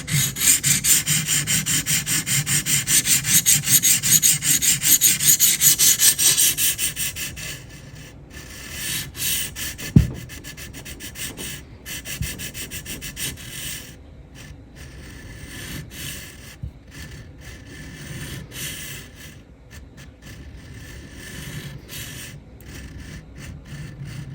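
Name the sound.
knife sharpening on TSPROF Kadet Pro sharpener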